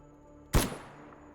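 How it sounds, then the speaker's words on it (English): A single shotgun blast in the video game S.T.A.L.K.E.R. G.A.M.M.A., a short sharp crack with a quick decaying tail, fairly distant and muted against a quiet background. "I'm pretty sure that's the shotgun sound."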